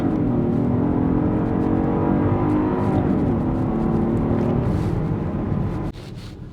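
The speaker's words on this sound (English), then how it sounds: "That was a good launch." A Genesis GV80 Coupe launches hard, its engine note rising in a strong, steady roar under acceleration before easing off abruptly near the end, loud and close with no voices.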